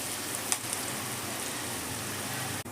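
Corn fries in a pan with a steady, soft sizzle, and a couple of faint pops and crackles stand out early against the even hiss.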